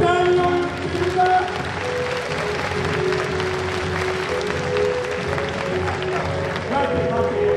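Sustained audience applause and crowd noise at the Waterworld stunt show at Universal Studios Japan, dense and continuous throughout, with a bright tonal layer underneath.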